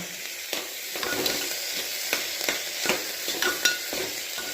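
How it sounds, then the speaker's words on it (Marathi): Coriander being stirred into soybean chunk khichdi in a hot pan: a steady sizzle with repeated scraping spoon strokes and light knocks, close and fairly even throughout. "कोथिंबीर टाका हलवून घ्या"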